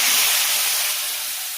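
Tamarind water hits hot mustard oil with five-spice in a pan for garlic pickle, giving a loud, steady sizzle that fades slightly over a second and a half.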